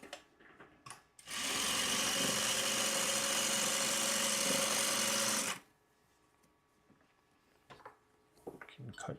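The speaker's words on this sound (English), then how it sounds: "I will sew off on this piece of scrap there" A sewing machine hums steadily for about four seconds while stitching quilt pieces off onto a scrap of fabric, with quieter handling sounds and a little talking before and after.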